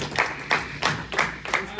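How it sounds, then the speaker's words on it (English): A group of men in a mind-mapping workshop gives a short round of applause: a handful of broad, evenly spaced claps at moderate loudness over a steady background hum, with faint voices mixed in. "give him a round of applause, gentlemen"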